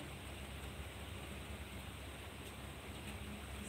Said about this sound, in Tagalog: Yan, umuulan. Raining.